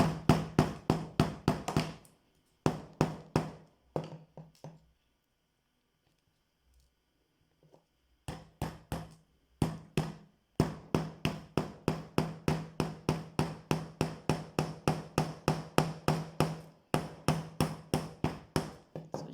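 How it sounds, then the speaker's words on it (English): Nails are hammered into a sandal heel in rapid, sharp, evenly spaced strikes that come in long runs, with a few pauses between bursts. "Just take your time to do all of the hammering."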